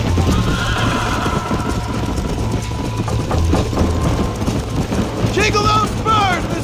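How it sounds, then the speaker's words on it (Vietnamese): A horse in the Red Dead Redemption video game gallops with constant busy hoofbeats, joined by rumbling game ambience, then lets out two loud, wavering neighs near the end. "Giờ mình đua ngựa với nó."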